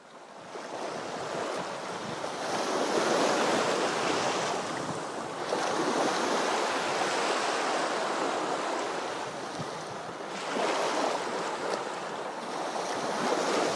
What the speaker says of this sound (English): Hearing the waves crash against the rocks and feeling the sand between my toes has been a calming sensation